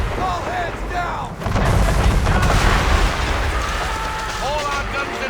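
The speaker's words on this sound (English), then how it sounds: "Man of war firing!" A man-of-war warship fires its cannons at sea in Assassin's Creed III, heard as a loud booming blast that swells into a sustained rumbling roar, with shouting voices and whistling shots around it.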